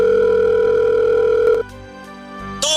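A cellphone rings with an incoming call, a steady electronic ringtone tone sounding loudly for about a second and a half before shifting to quieter tones, alone with no voices.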